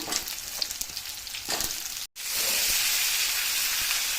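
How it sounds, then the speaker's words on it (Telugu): Drumstick, tomato and onion fry in a pan with a loud, continuous close sizzle and hiss, broken by one brief dropout before the frying resumes at the same intensity. "మునక్కాయ టమాటా ఆనియన్ అంతా ఫ్రై అవనిద్దామండి"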